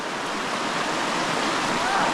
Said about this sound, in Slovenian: Tako da zdaj moramo pa čez reko Pračo.